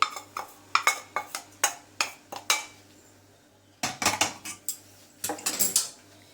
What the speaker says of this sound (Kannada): ಚೆನ್ನಾಗಿ ಹುರಿದಿದೆ ಗೋಡಂಬಿ ದ್ರಾಕ್ಷಿ ಅದನ್ನು ಎಳ್ಳಿನ ಬೇಸನ್ಗೆ ಹಾಕೋತಾ ಇದ್ದೀನಿ